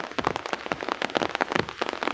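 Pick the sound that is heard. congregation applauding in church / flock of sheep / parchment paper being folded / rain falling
rain falling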